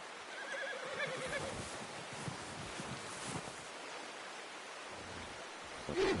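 A horse whinnies in the open countryside of the Red Dead Redemption 2 video game, a short neigh over steady wind-like background noise, fairly faint, with a brief louder sound at the end.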